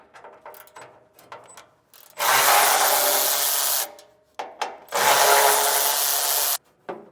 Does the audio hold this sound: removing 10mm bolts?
yes